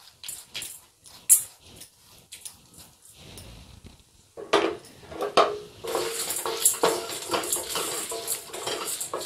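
Cumin, coriander, urad dal and sesame seeds are dry roasted in a pan, soft rustling and scraping of the spoon against metal in irregular strokes, growing busier and louder in the second half, with no talking.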